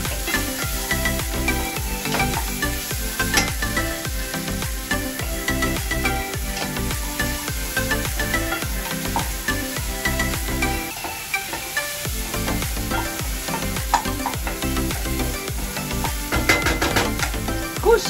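Onions sautéing in oil in a pan for Peruvian aji de pollo, stirred until translucent: continuous loud frying crackle with repeated scraping utensil strokes, close and without speech.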